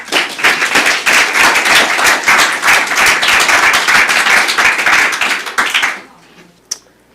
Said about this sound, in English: Oh, so should we just give them a clap first?